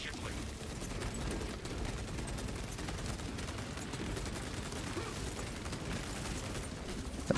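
Sustained rapid gunfire from a Terminator's weapons in Space Marine 2 rattles on without pause, a dense, loud mechanical barrage of automatic fire filling the scene.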